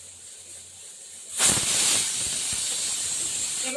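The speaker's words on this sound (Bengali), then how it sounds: "এবার প্রেসার কুক করবো।" A pressure cooker with mutton inside starts hissing steam abruptly, a loud, continuous close-up hiss that holds steady after the burst.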